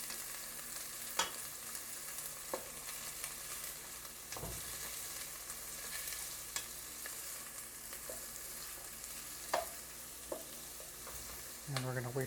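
Beef soup ingredients browning in a pan, a soft continuous sizzle underneath with occasional distinct spoon clinks and stirring knocks, quiet and close, and a louder clatter of utensils near the end.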